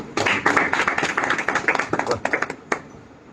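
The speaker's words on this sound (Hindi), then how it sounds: "विजय प्रभु के लिए जोरदार तालियां।" An audience at a Bhagavad Gita lecture clapping, a lively burst of many hands in an irregular patter that thins out and fades after a few seconds, near and fairly loud.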